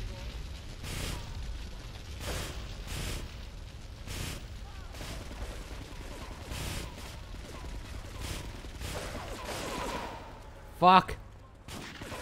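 Gunfire in Grand Theft Auto 3 on PS2, repeated sharp shots spaced irregularly over a steady background, ending with a louder burst near the end; a voice swears briefly.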